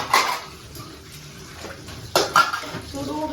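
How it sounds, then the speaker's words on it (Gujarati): A pressure cooker is scrubbed and rinsed at a home kitchen sink: sharp metallic clinks and clatters come in bursts amid splashing water, close and fairly loud. "એક કુકર ઉટકવાનું બાકી"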